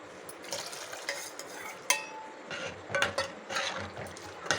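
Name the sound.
water added to veg liver gravy in pot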